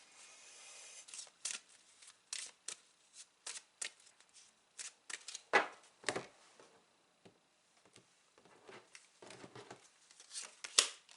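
Tarot cards are shuffled over and over in a quick run of crisp riffles and slaps, loud and close, each burst separated by short pauses, with no voices.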